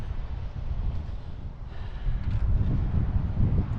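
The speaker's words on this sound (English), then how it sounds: "It's a bit windy and rainy" Steady wind gusting and buffeting around a tree climber high in a tree on a windy, rainy day, a broad low rumble that swells louder in the second half, with no talk.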